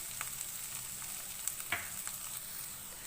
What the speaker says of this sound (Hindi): मीडियम फ्लेम पे इसको हल्का सा फ्राई करेंगे। प्याज को मैंने 1 मिनट के लिए फ्राई कर लिया।